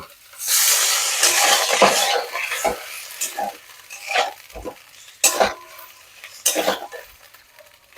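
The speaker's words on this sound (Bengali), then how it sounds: "এবার একটু জল দিয়ে দেব।" Water is poured into a pan of egg curry, setting off a loud hiss and sizzle that gradually settles into intermittent bubbling with occasional stirring scrapes, close by.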